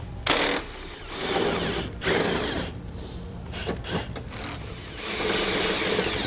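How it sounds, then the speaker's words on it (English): Power tool driving out a 15mm bolt on a 2005 Chevrolet during a base plate install, loud whirring bursts that start and stop several times, close up with brief pauses between runs. "we're also going to be removing the 15mm headed bolt located just inside from that location"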